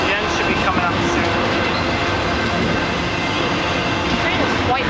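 Canadian Pacific freight train rolling steadily past at Pitt Meadows, a continuous loud rumble and rattle of wagons with faint wheel clatter and voices chatting underneath.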